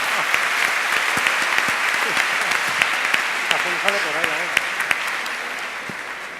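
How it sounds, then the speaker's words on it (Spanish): Audience applause at an AI conference talk in Alicante in 2018: dense, steady clapping from a large crowd fills the whole stretch, close and loud, with a few sharper individual claps standing out and a brief voice rising in the middle. "¡Un aplauso, por favor!"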